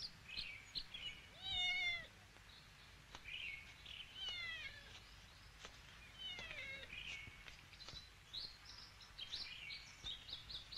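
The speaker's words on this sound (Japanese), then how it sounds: "猫の鳴き声のする方行けばおるじゃろ。" A cat meows several times in a quiet setting, drawn-out and plaintive, with high chirping bird calls scattered around it and no talking.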